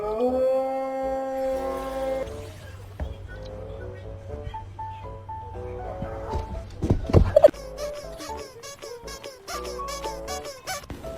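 A dog pup howls in the Wuthering Waves video game, with rising and falling tonal cries over game music and effects, growing louder toward a sharp burst near the middle.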